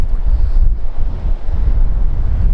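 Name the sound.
sea waves on the rocks at Filey Brigg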